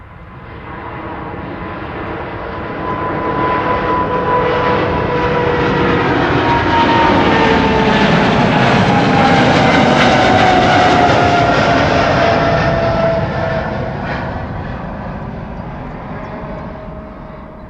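A Qatar Boeing 777 freighter roars through its takeoff roll and climb-out, the engine noise swelling to a loud peak midway and then slowly fading into the distance.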